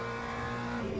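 Hypercar race cars in the sim racing game Le Mans Ultimate give a brief, steady, buzzing engine drone at high revs. The sound is moderately loud and lasts about a second.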